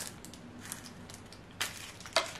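A Kinder chocolate egg is cracked open with two sharp, brittle snaps near the end, close and crisp against a quiet background with no talking.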